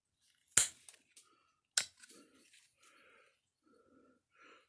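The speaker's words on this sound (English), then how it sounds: "And right now I'm just doing short flakes." A pressure flaker snaps short flakes off a piece of Flintridge stone in flint knapping: two sharp cracks with a few smaller clicks, and soft scraping and breathing between them.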